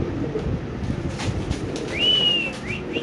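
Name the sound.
Indonesian Spanish pigeon cooing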